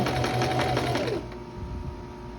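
A sewing machine stitches a dress seam in a rapid close-up burst, then stops abruptly and leaves a quieter hum.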